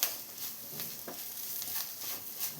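Sliced onions are stirred into hot spice powders in a pan while cooking a soya fry roast, giving a soft, constant sizzle with faint scraping strokes and no voices.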